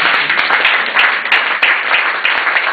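A congregation at a women's anniversary gathering claps in a thick, lively burst of applause, loud and near, with sharp individual claps standing out across the whole stretch.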